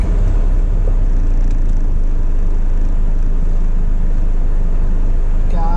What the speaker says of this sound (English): I forgot this is rush hour traffic.